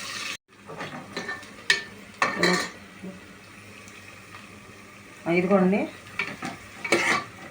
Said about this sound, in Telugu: ఇవి ఎర్రగా వచ్చే వరకు వేయించాలండి.